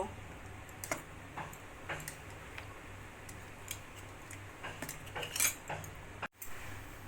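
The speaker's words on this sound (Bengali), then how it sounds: "এইভাবে হাতার সাহায্যে মিশিয়ে নেব" Malpua batter made with palm fruit is thinned with milk and stirred with a ladle, giving soft scraping and light clinks of metal against the bowl, quiet and intermittent over a low background hum.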